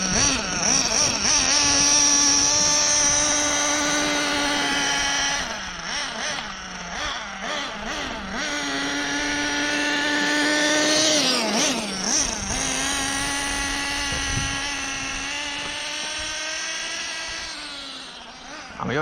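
A HoBao Hyper VS2 nitro RC car's small glow engine idles with a loud, buzzy drone close by, dipping briefly in pitch now and then before settling back to a steady rev; no voices are heard.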